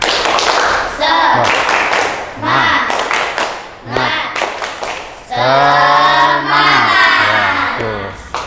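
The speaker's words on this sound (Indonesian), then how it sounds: "Ya, sekali lagi, tepuk semangat." Rhythmic spirit clapping in a classroom, a teacher leading students in sharp patterned claps in several bursts, with voices chanting and calling between and over the claps.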